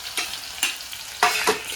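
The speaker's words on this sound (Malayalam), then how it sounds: "എണ്ണ ചൂടായി നമ്മൾ വേണ്ട കടുകിട്ട് വെളുത്തുള്ളി ചതച്ച് വെച്ചേക്കുക" Mustard seeds and crushed garlic sizzle and spatter in hot oil for a kakka rasam, with sharp crackling bursts rising over a steady frying hiss, close and moderately loud with no talk.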